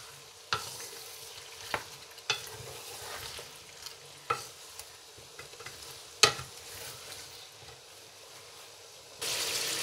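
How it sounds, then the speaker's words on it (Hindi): Cauliflower and spices are fried in a pot while being stirred, giving a soft background sizzle. Sharp scrapes and knocks of the spoon come at irregular intervals, and a louder hiss rises at the very end. "अब इनको भूनेंगे तकरीबन 1-2 मिनट, ताकि गोभी जो हमारी है अच्छी तरह मसाला इसमें मिक्स हो जाए"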